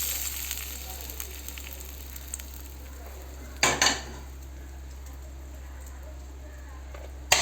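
Asafoetida and dried chillies sizzling in hot oil in a pan as a tempering, a steady low frying hiss with one brief louder crackle midway.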